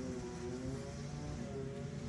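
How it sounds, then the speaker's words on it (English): A lawn mower cuts grass outside, heard as a faint, steady engine drone in the background with no pauses. "You guys can probably hear my dad cutting grass in the background."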